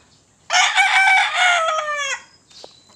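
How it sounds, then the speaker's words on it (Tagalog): A gamecock raised on a Filipino farm crows once, loud and close, a long harmonic call of about a second and a half, followed by a faint short cluck. "Ayan yung manok kaya."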